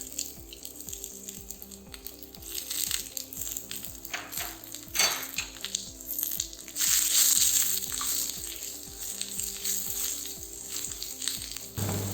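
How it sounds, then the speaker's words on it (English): Julienned cabbage and carrot sautéing in a hot pan for Japanese yakisoba noodles: a loud, continuous sizzle under a regular tapping and scraping of the spatula, swelling louder toward the end. "Now add juliennes of cabbage. Juliennes of carrot,"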